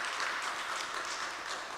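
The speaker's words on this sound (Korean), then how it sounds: "예, 박수 부탁드리겠습니다." Applause from a church audience at a mission department monthly meeting, a faint, steady wash of many hands clapping heard from a distance, with no voices over it.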